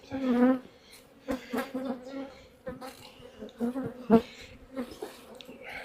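Honeybees swarm around an open hive during an inspection, a close, loud, wavering drone of many wings that swells and fades, with brief human sounds mixed in.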